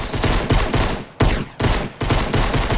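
Gunfire rings out in a shooter video game as loud, rapid bursts of automatic fire broken by short gaps, close and sharp, with no talk over it.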